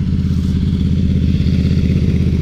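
A Ducati motorcycle engine runs steadily nearby at a loud, even idle, its low rhythmic pulsing topped by light mechanical clatter, with no talking.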